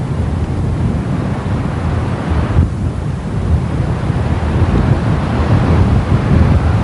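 Continuous ocean waves and surf wash beneath a sailing ship at sea, a steady rushing roar with wind noise buffeting throughout, loud and unbroken.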